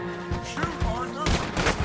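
Gunfire in Red Dead Redemption 2 sounds as a few close, sharp shots during a tense chase, mixed with loud in-game voices.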